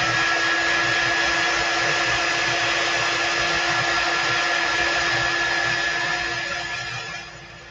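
A hair dryer runs continuously and loudly at close range over chalk paste on a transfer, a steady whirring blow that eases off slightly at the end.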